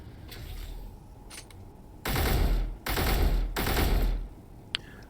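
A gun turret in Space Engineers opens fire in three strong automatic bursts separated by short gaps, following quieter faint rattling and background hum.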